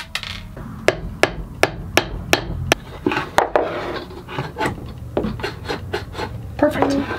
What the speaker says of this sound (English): Just gonna trim this nail off a little bit,